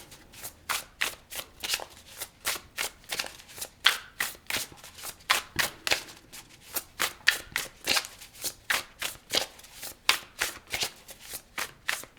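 Tarot cards being shuffled by hand in a steady, repeated riffling rhythm, each pass a crisp close burst of flapping card edges, with no talk over it.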